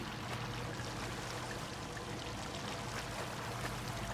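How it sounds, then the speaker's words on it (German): A character wades through water in the vampire game Vampyr, a steady, continuous wash of splashing and rushing water that keeps the same level throughout, with no talking. "Man kann durchs Wasser gehen."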